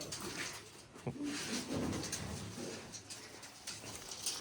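A pet homing pigeon, kept by a Punjabi pigeon fancier, gives a few soft, low coos close by over a constant background hiss and faint rustling.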